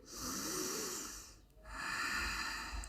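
Two long, close breath sounds during a yoga plank, each a steady airy inhale or exhale with a brief pause between, audible alone without speech.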